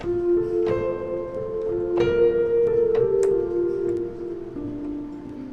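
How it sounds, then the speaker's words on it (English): Soft chords on the Native Instruments Uno Corda virtual piano ring out in a wide, washy reverb, each note blooming and lingering into a long tail. "The piano I'm using right now is Native Instruments Uno Corda"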